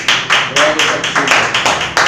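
Church congregation clapping in a rhythmic beat, about eight steady claps spread over two seconds, with a speaking voice partly under them.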